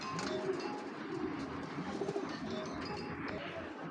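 Racing pigeons coo nearby in soft, repeated throaty calls that overlap in a steady murmur throughout.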